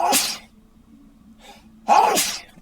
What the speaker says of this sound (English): And I'm going to sneeze.